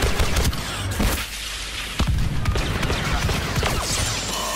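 Rapid blaster fire and booming impacts from a Star Wars Battlefront match, dense continuous volleys with sharp bursts packed close together and loud throughout.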